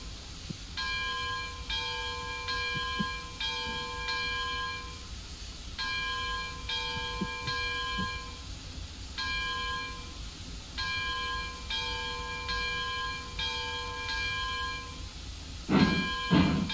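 Train sounds from an online train video game, with a freight run out to the depot and back, come as repeated horn-like tonal blasts in groups. A louder burst near the end stands out over steady background rumble.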